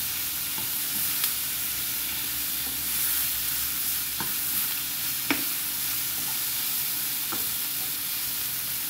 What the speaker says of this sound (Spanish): Ahora le voy a agregar la cebollita. Cebolla de rabo.